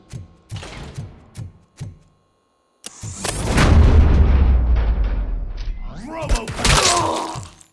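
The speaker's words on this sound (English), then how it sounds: "am I hearing gunshots?" Sharp gunshots in the video game RoboCop: Rogue City crack out in a few bursts, then a loud, dense barrage of booming fire and explosions with voices shouting over it.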